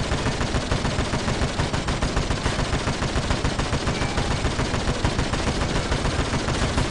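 Dense, continuous automatic gunfire fills a battle in the strategy game Warhammer 40,000: Dawn of War – Dark Crusade, loud rapid bursts overlapping without pause.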